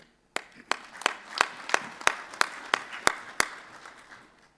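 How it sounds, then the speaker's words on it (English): A small group claps at a South Africa–Zimbabwe bi-national commission session, with about ten sharp, evenly spaced claps ringing out over a soft bed of scattered applause. "Let us applaud ourselves for a job well done."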